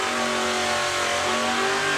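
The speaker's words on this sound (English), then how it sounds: "Mick Good with the Lucas Oils Dragster. He's into the Auto Glim lane." Lucas Oil dragster engine at an FIA drag racing event, a sustained loud, droning rev with strong tonal harmonics and no talk.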